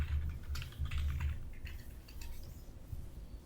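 Rapid clattering keystrokes on a computer keyboard while Python code is entered, close and steady with irregular bursts and no voices.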